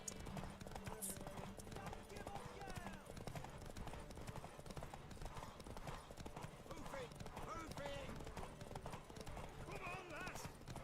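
Horse hooves clip-clop steadily along a road in The Witcher III, an open-world RPG. The hoofbeats are quick and continuous under a background music score, and a person talks over the game sound.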